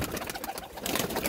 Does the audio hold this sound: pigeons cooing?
yes